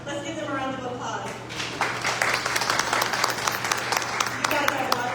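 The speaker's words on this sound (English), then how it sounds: "Let's give them a round of applause." Applause from a room of people at a convention center event, steady clapping building after a brief moment of speech-like sound at the start, with scattered louder claps throughout.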